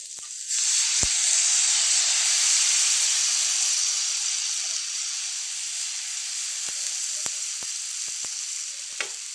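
Oil sizzles steadily on a hot pan while rava dosa is being made, a loud, continuous frying hiss that starts abruptly and holds, with a few sharp clicks and pops scattered through the later seconds and no talking.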